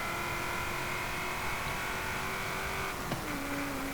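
The supercharged V8 of a 2015 Ford Falcon GT F 351 in Forza Horizon 5 holds a steady, loud cruising drone, then briefly dips and settles to a new pitch near the end, as if changing gear.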